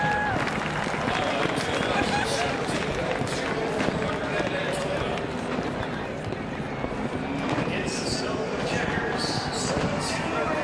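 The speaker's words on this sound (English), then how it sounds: "He's going to climb out and have a better listen to the roar of the crowd." A crowd roars at a NASCAR Cup Series race celebration at the Coke Zero 400, a continuous dense roar filling the track with scattered shouts, while a commentator talks over it.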